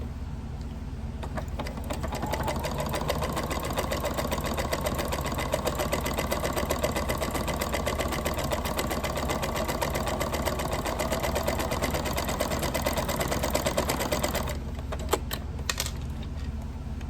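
A home sewing machine runs a multiple zigzag stitch over a torn slit in fabric, producing a steady, rapid mechanical whir with fine ticking that continues for about twelve seconds, then stops with a few clicks.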